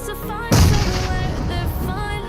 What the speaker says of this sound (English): You need to throw the grenade.